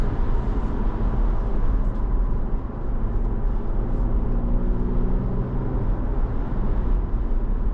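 A BMW M340d xDrive Touring diesel drones steadily while driving, a low engine hum with faint rising tones heard from inside the cabin, no talking.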